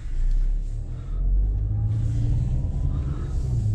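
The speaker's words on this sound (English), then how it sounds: "we're going to set off in the Mazda CX-5 on one of my favorite driving roads" A Mazda CX-5 SUV sets off on a driving road, its engine giving a steady, loud low rumble with a brief swell as it accelerates, and no voices are heard.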